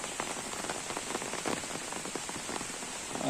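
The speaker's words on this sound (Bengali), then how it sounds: "সকাল থেকে কিন্তু প্রচুরই বৃষ্টি হচ্ছে" Steady rain pattering on surfaces nearby in a village, a dense, even hiss of drops with no voices.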